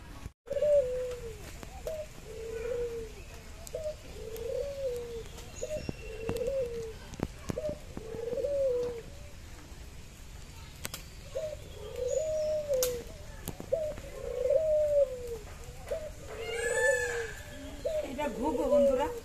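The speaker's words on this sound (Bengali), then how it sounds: "এখানে ঘুঘু রাখা হয়েছে" Doves kept in an enclosure at Durgasagar coo in repeated soft, throaty phrases at a steady rhythm, with a faint rooster-like call and light outdoor background noise.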